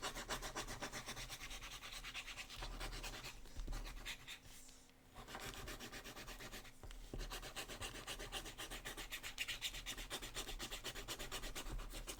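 A steady, close scratchy rasping of a fountain pen nib dragging across paper, continuous with a brief pause midway.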